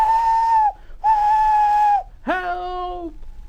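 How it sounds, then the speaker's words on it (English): A steam tank engine's whistle blows two long, steady blasts, then a third lower, wavering blast, loud and close. "He was still whistling and calling for help."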